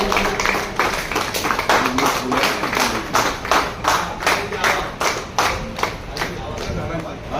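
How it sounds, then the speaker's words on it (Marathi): An audience at a felicitation ceremony applauds, with dense, rhythmic clapping in regular bursts that stays loud and near for several seconds, while a voice talks over it. "कृपया जोरदार टाळ्या वाजवायच्या"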